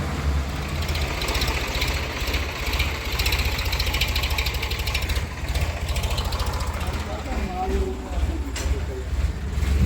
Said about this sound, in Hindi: यहाँ पर अभी ट्रैक्टर का आवाज़ ज़्यादा है।